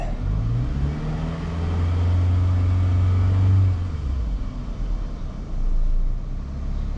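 A Toyota Camry engine with a fault code is revved at close range, rising from idle to a strong rumbling rev, easing off, then revving again.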